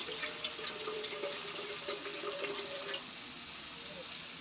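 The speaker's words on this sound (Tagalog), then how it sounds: "Lagyan natin ng konting tubig para naman sa ganun magkaroon ng medyo sabaw-sabaw." Water pours steadily into a vegetable dish with moringa leaves during home cooking, a gentle running splash that fades slightly near the end, with no talking over it.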